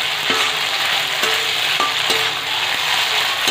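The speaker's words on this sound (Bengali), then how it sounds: "ভেজে নিই পুরো মাংসটাকে" Chicken meat fries in a pan for egg pasta, a steady loud sizzle with occasional sharp scraping taps of a spatula stirring.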